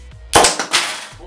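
A homemade alcohol-powered igniter weapon fires with a sharp, loud bang followed by a second burst and a whooshing tail, close up with no talk.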